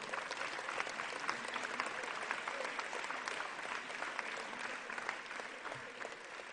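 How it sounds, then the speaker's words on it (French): Delegates at a party congress applaud the section secretaries, a sustained, even roar of crowd clapping that fills the hall steadily without a break, heard at a moderate distance. "On peut les applaudir"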